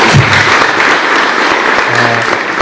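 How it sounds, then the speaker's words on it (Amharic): An audience at a crypto project presentation claps steadily, a dense, loud, continuous applause throughout with no pauses. "ስለዚህ እስቲፋኖሶች አንዴ አጨብጭቡ።"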